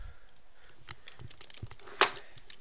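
Computer keyboard keys are tapped in scattered, light clicks during a game, close and quiet, with one sharper louder clack near the end.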